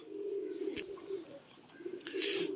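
Soft, low pigeon cooing runs through most of the clip, with a few brief higher chirps and rustles over it.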